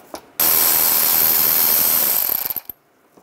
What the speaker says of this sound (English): Take the screw out here.